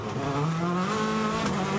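Rally car on a dusty tarmac special stage of the 2014 Acropolis Rally in the European Rally Championship, engine roaring steadily at high revs with rising tonal whine, loud and continuous throughout.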